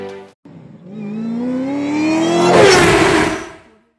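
A 2025 Audi RS3's engine revs hard, climbing steadily in pitch over a few seconds before a loud peak and a sudden cutoff, with a brief gap near the start. It is close and loud, with no voices.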